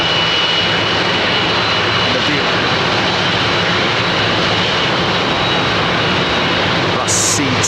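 Aircraft engines at London Heathrow Airport roar loudly and continuously, a dense jet rumble that fills the scene with no break, while people talk underneath.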